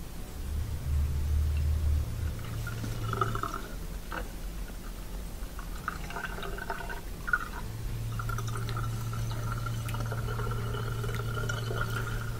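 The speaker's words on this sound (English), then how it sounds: "now I'm just listening to it at the sink draining" A sink drains water with a steady low gurgling rumble, punctuated by faint drips and trickles, heard up close with no voices.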